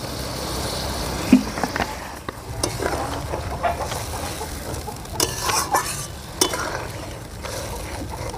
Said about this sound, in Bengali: এবারে দিয়ে দেব সামান্য পরিমাণে জল, কারণ এটা ডিমের কারি